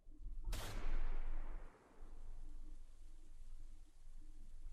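A single loud gunshot in a video game cracks sharply and then rings out into a long decaying tail over a steady low background rumble.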